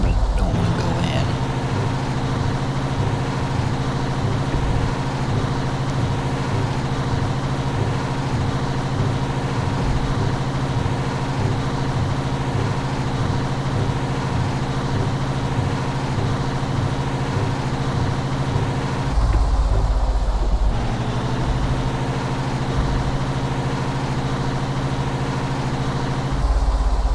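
Heavy truck engine in a truck-driving game, a loud steady low rumble with a pulsing throb, briefly shifting as a manual gear is forced in, continuous throughout.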